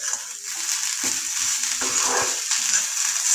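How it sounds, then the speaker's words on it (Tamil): Carrots sauté in a pan on a gas stove for a Tamil carrot chutney, a steady close sizzle broken by scraping stirs of a spoon against the pan, with no talking. "இப்போ கேரட் நல்லா வதங்கிச்சு"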